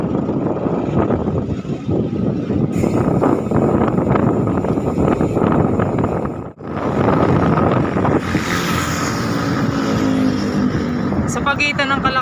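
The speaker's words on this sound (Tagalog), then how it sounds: "grabe yung hangin, sobrang hangin. Naririnig nyo naman siguro." Strong wind buffeting a moving rider's microphone on a road loop in Batangas, a loud continuous roaring rush with engine noise beneath, briefly dropping out mid-way before surging back, with someone talking over it.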